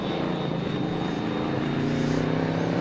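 A Chevrolet race car roars past on the circuit at the Winton Festival of Speed, a loud continuous engine drone that swells slightly toward the end.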